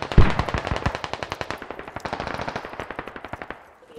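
Rapid automatic gunfire from the military shooter game Squad, a long rattling burst of closely spaced shots that fades slightly toward the end, loud and alone without talk.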